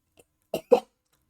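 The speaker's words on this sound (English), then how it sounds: "he coughs up blood, looks at you" A person coughing, with two short, harsh coughs in quick succession after a faint breath, close and alone.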